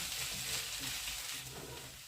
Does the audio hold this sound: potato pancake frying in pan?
yes